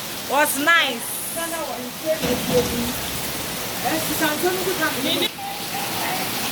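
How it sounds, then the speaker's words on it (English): Steady rain pours down on a rainy weekend in Ghana, a constant broad hiss of falling water, while people talk over it close by. "Rain, come again."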